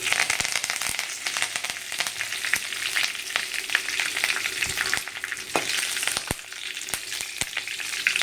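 Hot oil sizzles and crackles steadily up close, with sharp pops scattered throughout as curry leaves fry in a tempering and are stirred with chickpeas; no voices.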